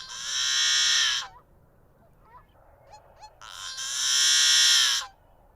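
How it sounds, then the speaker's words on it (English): A yellow-headed blackbird gives two loud, harsh, buzzy creaking calls, each about a second long, separated by a quiet stretch with a few faint chips and clicks. "So that was a yellow-headed blackbird."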